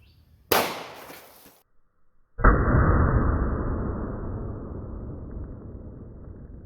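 A .45 ACP pistol firing a Speer Gold Dot standard-pressure round into a row of water jugs: one sharp, loud report, then after a short gap a second heavy impact blast that decays slowly into a long rumbling tail.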